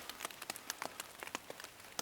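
Rain falls on a ZPacks Hexamid Solo-Plus tarp pitched in a forest, making sparse, irregular sharp patters of individual drops on the taut fabric, quiet and close.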